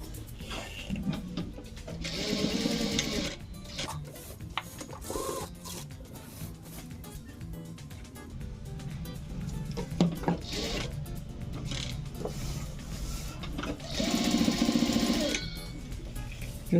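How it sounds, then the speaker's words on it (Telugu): A sewing machine stitches a cotton baniyan vest, whirring in steady bursts of rapid mechanical chatter up close, with quieter pauses between runs. "ఇప్పుడు దీని మీద మనం ఒకసారి ఇలా కుట్టేసుకుంటే సరిపోతుంది అన్నమాట."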